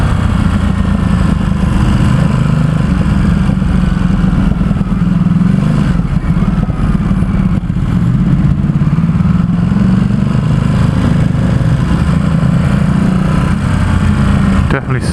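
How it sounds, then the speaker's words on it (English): A 2017 Ducati SuperSport S with a 950 V-twin engine ridden through San Francisco, its engine a loud continuous rumble that holds steady throughout, heavy and close with wind noise, and a voice talking over it. "It's got a V-twin engine, 950 degree V-twin engine."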